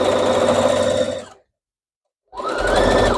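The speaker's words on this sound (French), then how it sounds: "Voilà, on coud tout autour." A sewing machine stitches around the hem of a pochon skirt, its fast rhythmic needle whirring loud and close, stopping abruptly for about a second before starting again.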